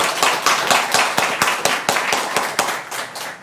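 Audience clapping at a Korean church mission lecture for a pastor from North Korea, a close, dense patter of hands in the room with distinct louder claps, and almost no voices.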